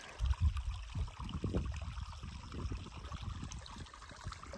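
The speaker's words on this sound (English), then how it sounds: "We're down at a little seasonal spring, getting water." Water trickles at a small seasonal spring on a trail in Washington, a soft, close gurgling and dribbling with an uneven rhythm and no talk over it.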